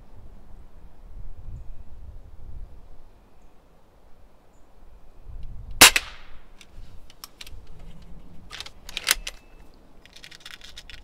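A B3 .177 break-barrel air rifle fired outdoors: one sharp, loud crack near the middle followed by metallic clicks and clacks of handling, with a quieter second report later against a calm background.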